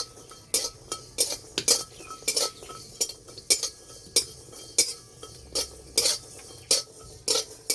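Cumin seeds, green chilies and garlic fry in a hot wok while a spatula scrapes and clinks against the metal in sharp, regular strokes, with only a faint sizzle underneath and no voices.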